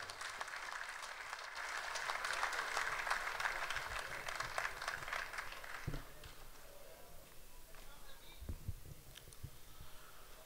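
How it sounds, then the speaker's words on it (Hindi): An audience at an Urdu mushaira poetry gathering in Dubai applauds poet Abbass Tabish with dense, steady clapping that fades away, followed by a few scattered thumps and a voice. "जोरदार तालियों से इस्तकबाल कर"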